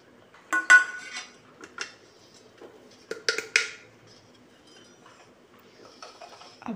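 Metal utensils clink and scrape against a pot as ground leftover roti is transferred in a home kitchen. The sharp clatters come in scattered bursts, close and fairly quiet, with nobody talking.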